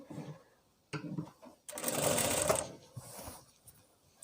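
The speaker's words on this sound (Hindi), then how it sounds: "अब हम इस पे बेल्ट की सिलाई कर लेंगे" Sewing machine stitching the waistband onto palazzo pants, short bursts of needle clatter broken by pauses, then a longer steady run of stitching up close.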